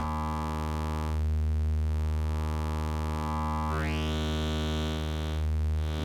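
A thick, harmonically rich drone from an Endorphin.es Furthrrrr Generator complex oscillator synthesizer, with wave shaping, holds steady, then a bright upper tone sweeps up and settles into a brassy buzz.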